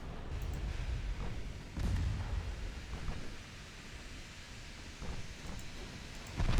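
A single torpedo detonating prematurely during a naval battle in Ultimate Admiral Dreadnoughts, heard as dull, rumbling low booms and surging thuds that rise and fall over a steady background roar of battle, with no talking.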